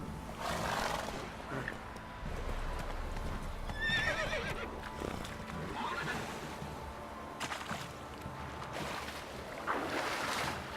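A horse gallops in The Witcher 3, its hooves clip-clopping steadily and loudly throughout, with a whinny breaking in and a voice urging it on.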